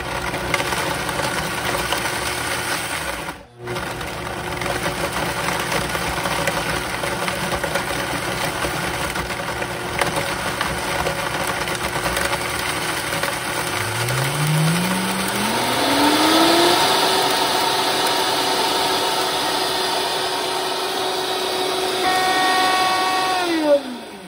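Vitamix blender powering through dehydrated vegetables: a loud steady motor roar with grinding, a brief dropout, then a rising whine as speed climbs and holds near the end.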